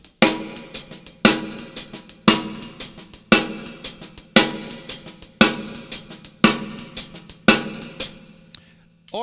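Drum kit playing a blues shuffle with a rim shot backbeat and soft ghost notes, a steady swung rhythm of sharp, close, loud strikes recurring about once a second, with a ride or hi-hat pattern in between.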